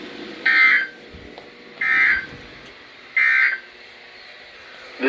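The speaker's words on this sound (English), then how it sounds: "the National Weather Service weather radio warning alarm" NOAA Weather Radio warning alarm tone sounding during a routine weekly test in Youngstown, Ohio: three loud, steady electronic tone bursts, each about half a second long, spaced evenly with quiet gaps between them and no voice.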